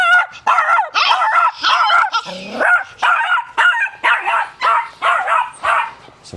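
Caged young puppies bark and yip in quick, repeated bursts close by, about a dozen sharp, whiny barks with a lower whimpering yelp partway through; a person speaks briefly among them.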